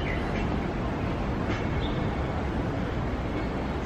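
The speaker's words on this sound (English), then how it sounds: "So it kind of feels like it's just pulling the entire tram." A cable-pulled tram on a hiking trail to a peak gives a steady, close rumble with faint rattling, constant and unbroken throughout, with no voices.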